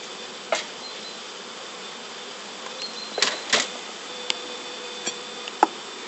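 Honeybees hum steadily in a hive colony as a beekeeper checks a newly introduced queen, a constant close drone broken by a few sharp clicks and knocks from handling the box.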